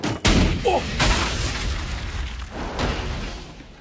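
A single sharp gunshot cracks out near the start of an Attack on Titan anime scene, followed by a couple of softer booming hits and a voice cry.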